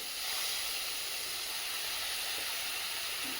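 Spice paste for egg paneer sizzles in a hot pan, a steady, bright hiss that starts abruptly and holds evenly throughout, with no talking.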